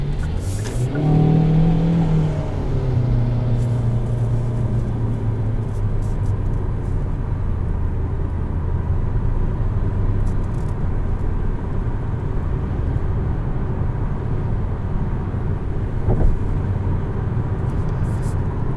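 A 2020 Kia Soul X-Line with the 2.0-liter engine accelerates and cruises from inside the cabin, with a rising engine note early on settling into a steady, loud drone of engine and road noise throughout.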